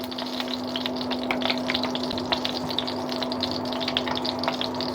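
Hot ghee hits a heated pan on a stove while cooking pongal, giving a steady sizzling, bubbling hiss with a constant low hum underneath.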